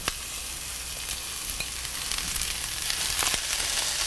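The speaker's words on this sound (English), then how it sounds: "To that, I'm just going to add that shredded cabbage and onion." Shredded cabbage and onion sauté in extra virgin olive oil in a sauté pan, giving a steady, close sizzle with a few soft clicks and scrapes throughout.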